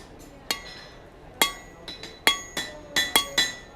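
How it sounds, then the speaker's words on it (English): Blacksmith hammer blows ringing on metal, about nine sharp, bright strikes in an uneven rhythm, some spaced and some in quick succession, each with a short metallic ring, close and fairly loud. "Nice high hammer blows."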